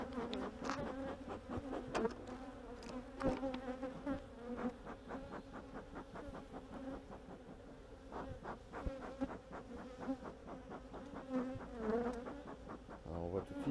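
Honeybees buzz at an opened beehive, a faint, dense, continuous drone with many overlapping wingbeat tones that waver in pitch as individual bees pass close.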